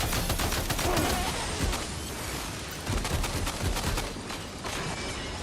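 Continuous machine gun fire in the video game Death Stranding 2, a dense, loud and unbroken stream of rapid shots with no speech over it.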